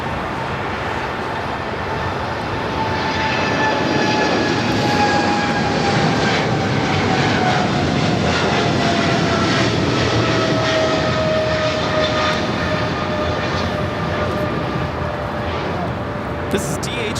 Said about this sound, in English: This is DHL operated by Polar Air Cargo 962 taking off to Cincinnati on our 777 freighter.